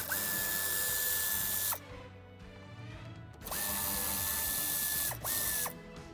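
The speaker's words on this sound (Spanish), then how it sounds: "Retiraremos los tornillos que sujetan esta parte inferior." A cordless drill or driver whines steadily with a ratcheting clutch as it backs out screws from the lower trim panel of a 2016–2019 Audi A3 8V sedan, running in three bursts, close and loud.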